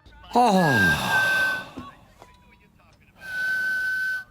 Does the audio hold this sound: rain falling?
no